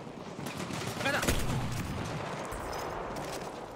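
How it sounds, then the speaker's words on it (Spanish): Gunfire rings out in the video game Battlefield 1, a burst of several overlapping shots near the middle and then a rumbling tail, mixed with a little background noise. "¿Qué fue ese disparo?"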